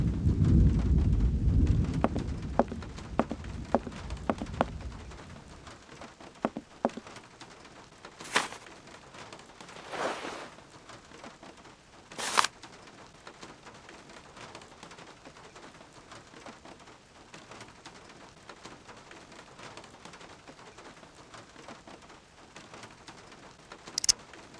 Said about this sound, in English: Il pleut encore beaucoup. Je vais attendre que l'orage se calme avant de sortir.